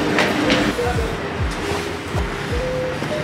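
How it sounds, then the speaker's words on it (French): Metro train riding on rails on a Paris line, with rhythmic clickety-clack of wheels over rail joints, steady loud rumble and a faint squeal inside the car. "on rentre dans le métro"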